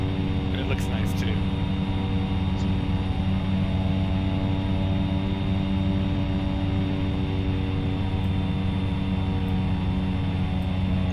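A small plane's engine in the X-Plane 11 flight simulator while island hopping in Michigan, a loud, steady droning hum with strong tonal bands that holds evenly throughout.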